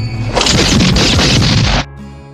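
A rapid burst of loud film gunfire rattles for over a second, then cuts off abruptly, leaving a quiet tail.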